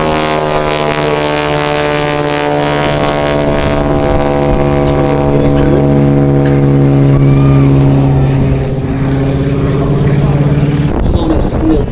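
Propeller aircraft engine drone from an aerobatic wingwalking display at Sywell Airshow, a loud steady harmonic hum passing slowly left to right, with a commentator talking over it throughout.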